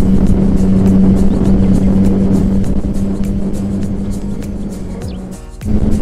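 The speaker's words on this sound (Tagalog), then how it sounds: "200 plus kilometer per hour. Ramdam ko yung ingay." Loud, steady engine drone and wind roar from a motorcycle ridden at over 200 km/h, heard from a rider wearing an HJC RPHA 11 helmet; the noise holds constant throughout, then swells briefly near the end.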